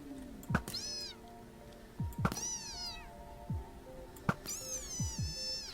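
A creature in a video game lets out catlike meows when struck, three distinct mewing cries spaced a couple of seconds apart, each preceded by a sharp hit, fairly close and clear.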